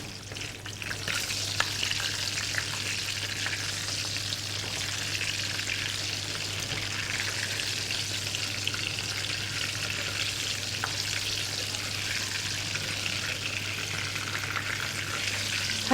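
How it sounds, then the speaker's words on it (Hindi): Eggplant pieces fry in a pan of hot oil with a steady, continuous sizzle and occasional stirring, no voices heard. "बैगन को हल्का सा फ्राई करके मैं निकाल लूंगी।"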